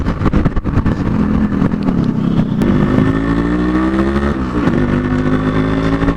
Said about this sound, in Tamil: வண்டி வந்து ஆல்மோஸ்ட் சைலண்ட்டு, ஒரு சவுண்டு கூட இல்லை வண்டியில், எக்ஸ்ட்ரா சவுண்டு